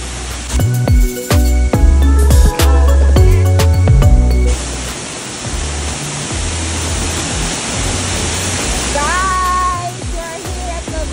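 Waterfall at Bayugin Falls in Bulusan, Sorsogon, a steady broadband roar of falling water, loud and continuous, with clinks and knocks over it early on and a brief voice near the end.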